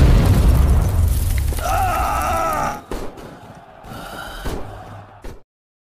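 A loud, booming bomb explosion erupts and rumbles, followed by a few scattered smaller bursts before cutting to silence, in a battle scene from an Indian film.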